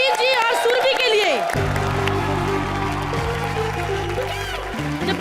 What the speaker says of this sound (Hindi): तो एक बार जोरदार तालियां हो जाए हमारे मुबीन जी और सुरभि के लिए।